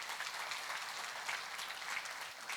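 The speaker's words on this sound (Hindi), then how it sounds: "तो भारत की जनता के लिए एक बार जोरदार तालियां हो जाए।" A crowd at a public address by India's minister of sports, youth affairs and information and broadcasting breaks into loud, sustained applause, an even roar of clapping with no voice over it.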